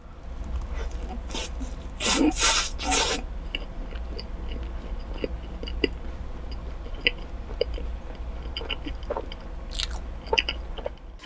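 Close crunchy bites and steady chewing of a giant milk cream waffle, with a loud burst of crisp biting early on, then softer mouth sounds and occasional crunches without talk.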